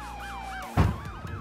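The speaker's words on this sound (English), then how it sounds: "Is there an ambulance as well?" An ambulance siren in the Roblox game Liberty County wails in rising and falling sweeps, loud and close, with a sudden thump or impact partway through.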